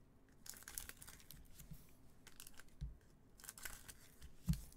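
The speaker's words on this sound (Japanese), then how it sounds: "またハサミで切りますので少々お待ちください。" Scissors snip and tear through the plastic wrapper of an Upper Deck Marvel X-Men Metal Universe trading card box, soft crinkling and cutting sounds close up, with a couple of sharper clicks, quiet overall.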